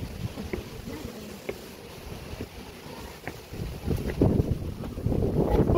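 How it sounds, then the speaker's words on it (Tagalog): Strong wind blows across a hanging bridge at Tagaytay Picnic Grove, rumbling into the microphone in uneven gusts that grow louder toward the end, with faint clicks and footsteps beneath. "Ang lakas ng hangin."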